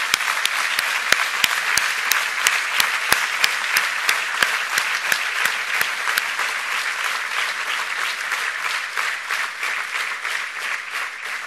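Sustained audience applause fills a Centre Party national congress hall, with sharp individual claps standing out early before settling into a steady, even roar of clapping.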